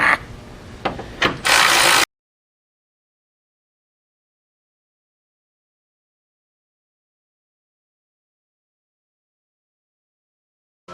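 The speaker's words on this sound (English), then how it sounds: "Ratchet." Hand ratchet wrench clicking through a few quick bursts during a ride system replacement on a Prostar Pro truck, close and loud, then cutting to silence.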